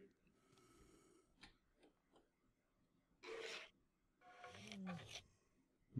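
Minecraft Stray mob sounds, eerie bone-grinding rasps mixed with breathy snoring-like growls, coming in a few separate short bursts over quiet background.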